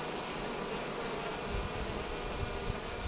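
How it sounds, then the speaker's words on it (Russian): Buckfast honeybees hum around an opened hive during honey harvest, a steady moderate buzz close by, even and unbroken throughout. "Сейчас немного сойдут пчелы."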